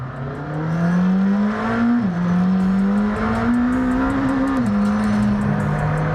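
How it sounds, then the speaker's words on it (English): A McLaren Senna, an 800-horsepower supercar, drives with a loud, steady engine drone that rises and shifts pitch through gear changes, close and continuous with no talking. "So let's take the car for a drive."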